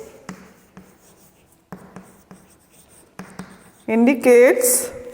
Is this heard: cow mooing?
no